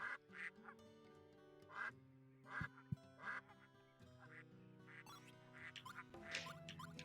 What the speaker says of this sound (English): I hate these ducks.